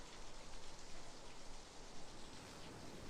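Steady rain falls on a surface in a dense, even hiss, with faint patter throughout and no break or change in intensity.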